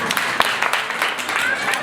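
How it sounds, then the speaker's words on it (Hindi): An audience at a religious gathering claps loudly together in a dense burst of applause, with voices mixed in. "एक बार ताली बजा दो जोर से"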